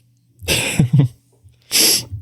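A man's loud, close sneeze, preceded by a sharp inhaling build-up and followed moments later by a second burst.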